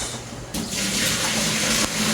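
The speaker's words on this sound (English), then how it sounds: "this is the saltfish here right now, so this is the first water. I'm gonna strain it off." Soaking water from a pot of saltfish is poured off and strained in a steady, loud rush that runs the whole clip, close by and with no talk.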